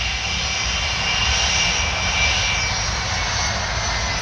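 A Boeing 787 jet roars steadily during takeoff on runway 08 at Paris Orly airport, a loud, sustained broadband engine rush with a faint whine, no voices.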